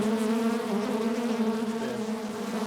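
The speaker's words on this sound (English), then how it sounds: "This is my most angry hive, but they are my most productive hive." Honey bees from an angry but productive hive buzz thickly and continuously, close and loud, with a steady droning hum and no talk.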